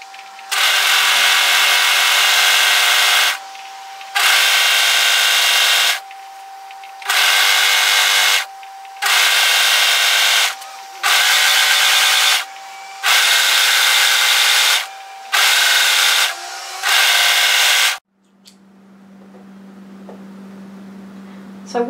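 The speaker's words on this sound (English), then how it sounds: "So starting at a side seam, I'm just going to overlock to secure that raw edge." An overlocker sews along the raw hem edge of a lounge-top fabric in loud, close whirring bursts, about eight runs with short pauses between them. The machine then stops and a low steady hum remains.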